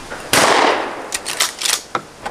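A shotgun fired at clay targets outdoors: one loud close blast with a long decaying boom, followed by several fainter sharp cracks or clatters.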